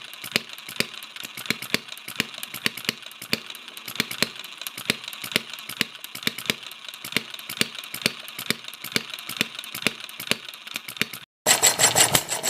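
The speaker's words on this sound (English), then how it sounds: "Here we have a Fairbanks Morse Eclipse half-scale model engine" A Fairbanks Morse Eclipse half-scale model hit and miss engine runs with a rapid, even string of sharp mechanical pops and clicks, close and alone, cutting off briefly near the end.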